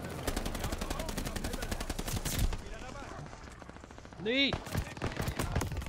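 Rapid pistol and automatic gunfire crackles through a Call of Duty: Vanguard team deathmatch, steady bursts of dense shots with a brief pause, while a voice exclaims once over the shooting.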